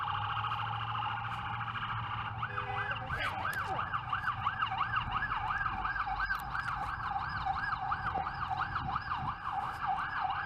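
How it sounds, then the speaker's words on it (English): A wailing siren rises and falls rapidly in a steady warble, fairly faint and distant, over low background traffic hum. "Sounds like a fake siren."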